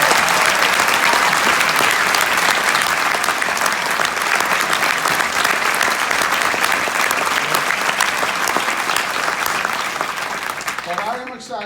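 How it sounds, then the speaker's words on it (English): An inauguration audience at a New York State Senate ceremony gives sustained, dense applause that stays loud and steady before thinning slightly at the very end; voices murmur beneath the clapping. "So let's give Carol and Michael a big round of applause."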